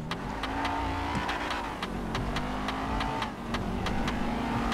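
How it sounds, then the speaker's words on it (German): V8 car engine revving in the video game GTA 5, a steady loud drone with rising and falling revs and a rapid rhythmic pulse throughout. "Dicker V8 hier drin, oder?"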